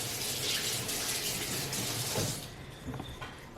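Hands washed under a running tap at a sink, a loud steady gush of water that cuts off after a couple of seconds, followed by faint dripping and handling sounds.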